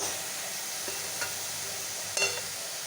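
Grated coconut and roasted sesame seeds stirred in a pan for coconut laddus, a low dry sizzle under a few light scrapes and taps of a spoon, steady and close.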